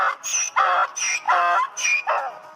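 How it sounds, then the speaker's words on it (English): A donkey brays loudly and close by in a rhythmic, alternating hee-haw pattern. About six harsh, wheezing bursts follow one another with only brief gaps. "Donkey bray."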